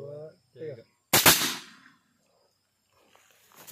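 A single sharp, loud shot from a PCP Predator air rifle cracks out close by, with a brief decaying tail, after a short spoken count and before faint rustling.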